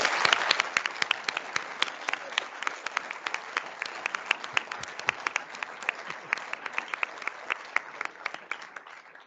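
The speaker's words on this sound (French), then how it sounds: "je vous propose qu'on fasse une salle d'applaudissements pour tous ceux qui ont rendu ça possible" A roomful of people clapping at the inauguration round table of an engineering school campus, a sustained, even patter of many hands that stays steady before thinning slightly toward the end.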